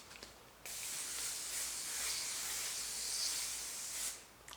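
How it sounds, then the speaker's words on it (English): Aerosol hairspray misted over hot-roller curls: a single steady hiss lasting about three and a half seconds, fairly faint, with small clicks before it starts. "I would also suggest spraying everything with a light spray"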